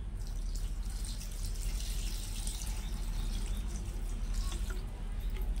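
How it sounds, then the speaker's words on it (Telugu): Water is poured into a pot filled with heat-fired clay balls for an indoor plant, a steady soft trickling splash that runs without a break. "ఇప్పుడు ఇందులో మనం వాటర్ పోసుకుందాం."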